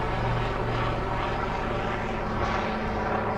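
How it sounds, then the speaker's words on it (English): Steady, loud engine roar with a throbbing rotor-like drone, continuous throughout and close by, with no voices. "helicopter."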